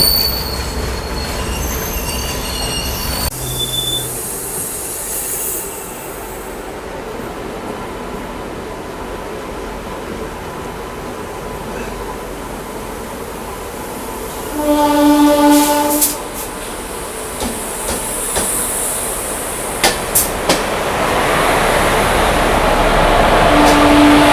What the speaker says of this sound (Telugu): మనతో పాటు ఇప్పుడు ప్యారలల్ గూడ్స్ ట్రైన్ అయితే ఒకటి వస్తుంది అనమాట.